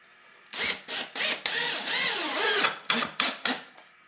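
Long screws are driven into a wooden board for a cemetery vault form with a power drill, heard as several short close whirring bursts, one longer sustained run, then a quick series of brief pulses.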